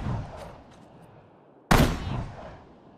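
A single loud gunshot cracks out in a World War II desert battle in the strategy game Sudden Strike 4, preceded by faint ambient rumble and followed by a short decaying echo.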